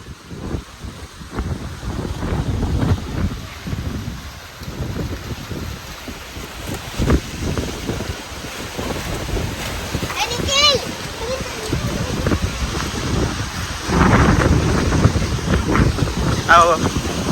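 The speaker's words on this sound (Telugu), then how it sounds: "గాలి తుమారం బాగా వస్తాను" Strong stormy wind roars and buffets the microphone in a village outdoors, a continuous rushing noise that swells in gusts while adults and children talk over it.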